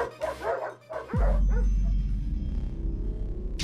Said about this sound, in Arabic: الكلاب كانت خائفة من أن يصل الأمر إلى ذلك فتفرقت لكنها تبادلت نباح الوداع